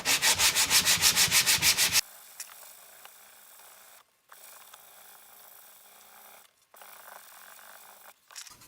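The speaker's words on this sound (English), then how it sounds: "And then use some sandpaper." Sandpaper rubs a wooden guitar head plate inlay for a fretless guitar, a rapid, loud back-and-forth scraping for about two seconds, then a much fainter hiss of handling and light rubbing.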